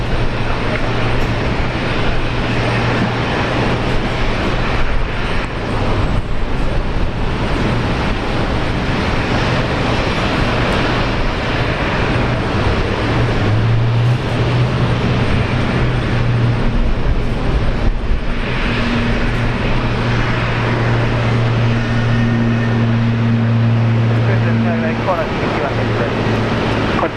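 A Qantas airliner at Brisbane Airport produces a loud, sustained jet engine roar with a rising whine partway through, heard from moderate distance across the whole stretch and mixed with light background noise.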